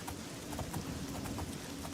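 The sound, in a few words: rain falling in the video game Oblivion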